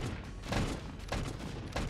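Rapid bursts of gunfire crackle through a tank battle in the Stormworks video game, a quick series of fairly faint, distant-sounding shots.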